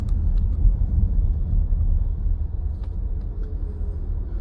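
Light, slow-moving road traffic queued at a right-turn cut, with a steady low engine rumble from cars and other vehicles idling and creeping forward nearby, continuous throughout.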